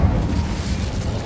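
An Incendio fire spell cast in a video game gives a loud, close burst of roaring, whooshing flame that fills the short moment with dense low rumble.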